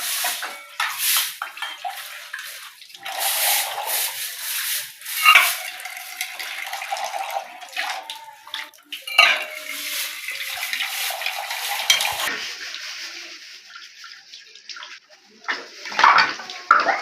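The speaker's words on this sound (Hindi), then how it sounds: "बर्तन वॉश हो रहे हैं।" Dishes washed in a sink under a running tap: water splashes continuously while pots, plates and cutlery clink and clatter in bursts, close up with no talking.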